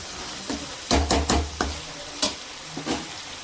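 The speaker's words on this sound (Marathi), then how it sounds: "कांदा आणि टोमॅटो छान असं आपल्याला तेलामध्ये परतून घ्यायचं आहे" Chopped onion and tomato sizzle in hot oil in a pan, with a soft steady hiss broken by several sharp knocks of a spoon stirring against the vessel.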